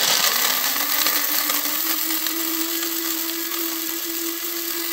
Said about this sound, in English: the rest of the fruits go whole into the coffee grinder